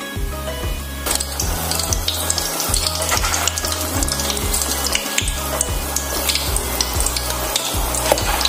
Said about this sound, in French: regarder si l'huile chauffe suffisamment pour commencer donc avec la friture